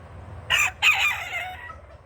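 Chickens kept in a mobile chicken tractor give a short, loud squawking call in two quick bursts, close by, over a low background hum.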